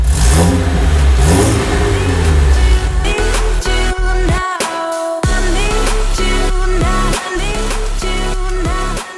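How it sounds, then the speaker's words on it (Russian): Lada Niva engine revving hard through a tuned Akrapovic exhaust, loud and close, with repeated throttle blips and sharp lifts between bursts, no talking. "тюненный выхлоп, Акрапович,"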